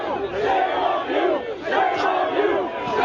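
A crowd of protesters shouts and chants in loud, overlapping waves that rise and dip, a dense mass of voices with no single clear speaker.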